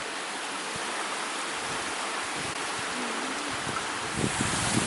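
Waterfall on a wild swimming walk, a broad steady roar of rushing water, loud and continuous with faint wind buffeting and no talk.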